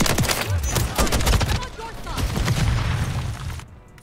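Rapid gunfire from the Jak Jawbreaker kit in the shooter MW3 cracks out in a dense string of sharp, punchy shots with booming low thuds, thinning toward the end.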